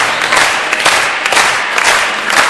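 Guests at a wedding celebration break into loud, continuous applause, a dense wash of many hands clapping close by, with faint crowd murmur underneath.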